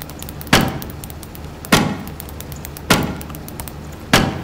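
In the video game Dark and Darker, a torch takes four evenly spaced sharp strikes, each a crisp percussive hit with a short ringing tail, loud and close with no talk.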